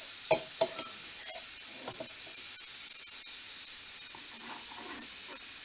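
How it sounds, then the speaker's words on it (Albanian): A steady soft hiss of flour frying in a pan with onion, with a couple of light scraping knocks near the start and faint stirring sounds. "Vazhdojmë të skuqim pak miellin"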